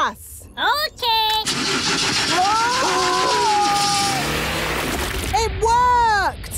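A cartoon engine sputters and revs as it starts up with gas, rising whines and strained engine tones building then cutting out, with animated character voices talking over it.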